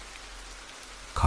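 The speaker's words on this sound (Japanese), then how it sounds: "20日亥日の月も竹をつくような雨がザーザーと降り" Heavy rain pours down steadily on a surface in a traditional Japanese ghost story setting, a dense even hiss throughout, ending in a brief louder low thump.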